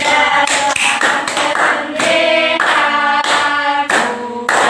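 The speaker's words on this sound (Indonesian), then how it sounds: "Nah, ayo sambil tepuk tangan." Children at an Indonesian primary school lesson clap along while singing the national song "Berkibarlah Benderaku", steady rhythmic claps under loud sung voices close by.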